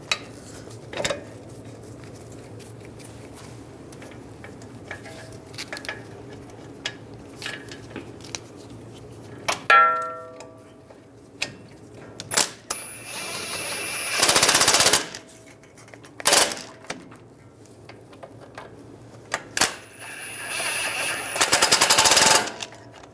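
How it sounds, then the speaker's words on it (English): A power tool, likely an impact driver, running caliper bolts in on a Ram 1500, in loud short bursts of rattling hammering separated by pauses, among scattered metallic clicks and taps in a garage. "Get the caliper bolts started."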